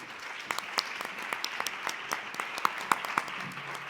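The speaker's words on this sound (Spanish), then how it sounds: "pido un fuerte aplauso" A crowd claps steadily for a few seconds, a warm indoor applause with scattered sharper claps standing out.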